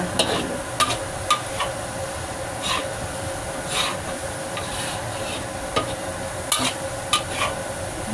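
Dried scallops fry in oil while being stirred, with a steady close sizzle and scattered sharp scraping clicks from the utensil against the pan.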